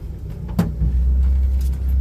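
An old French car engine running, a loud steady low idle rumble close by, with a brief clunk or rattle partway through and no talking.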